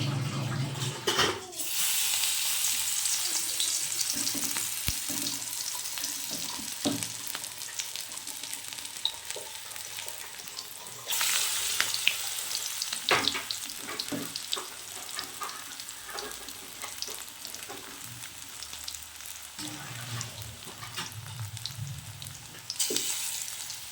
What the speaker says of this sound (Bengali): এবার আমি অল্প অল্প করে ব্যাটার নিয়ে এর মধ্যে দিয়ে দেবো